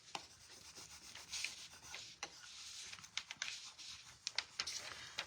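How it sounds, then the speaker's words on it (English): Sanding of a wooden surface with a 220-grit Gator sander, heard as steady close rubbing and scraping with irregular louder strokes and brief sharp scratches throughout. "I just went over with my 220 Gator sander and I make sure my surface was smooth for my transfer"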